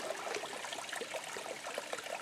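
Creek water flowing along a partly dry creek bed in the Silver Peak Wilderness, California, heard as a faint, steady trickle and babble with no voices.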